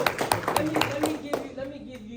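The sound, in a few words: audience clapping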